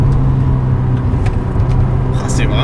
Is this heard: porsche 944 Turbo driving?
yes